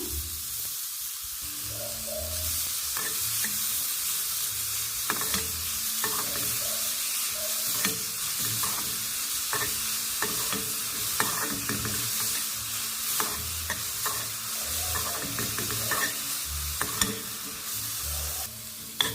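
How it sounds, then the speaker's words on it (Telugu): Steady sizzling of grated carrot frying in a pan, with repeated scraping and clinking of a spoon stirring through it, continuous and close. "సేమ్ అదే గిన్నెలోకి మనం క్యారెట్ తురుమునైతే వేసుకొని దీన్ని కూడా ఫ్రై చేసుకున్నాము"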